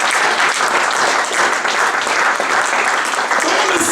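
A church congregation applauds the Lord during a French-language Sunday sermon, a dense, sustained roar of many hands clapping together with scattered cheers, steady and loud the whole way through.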